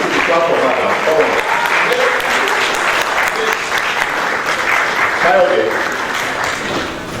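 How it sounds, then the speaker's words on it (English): Loud, sustained audience applause fills a geography alumni lecture and award ceremony hall, with voices talking and calling out over the clapping. "You should clap for her"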